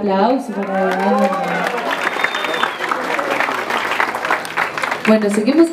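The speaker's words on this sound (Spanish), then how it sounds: "aplauso para Orlando" Applause for Orlando at a birthday party with a mariachi band, a crowd clapping steadily for several seconds, with a voice speaking at the start and again at the end.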